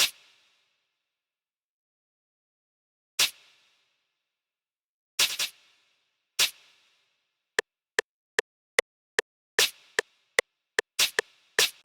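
A crisp drill-style snare, the classic snare sample, cracks alone in sparse isolated hits, then in a faster rhythmic run of sharp repeated strikes, dry and punchy with short tails.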